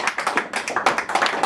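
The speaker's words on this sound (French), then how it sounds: "je voudrais que vous vous applaudissiez vous-même" Audience at a French-language talk applauding themselves, a short burst of brisk clapping with distinct rhythmic claps, fairly close and alone.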